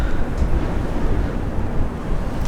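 Strong 10-15 mph wind buffeting the microphone beside a Mazda RX-7, a loud low rumbling roar with gusty fluctuations throughout.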